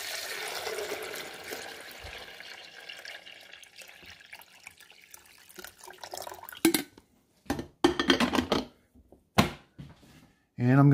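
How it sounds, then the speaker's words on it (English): Fresh water poured into the reservoir of a Mr. Coffee DRX23 12-cup programmable coffee maker, a trickling splash followed by short clunks and splashy bursts, with a person talking over it. "I'm just going to put fresh water back here."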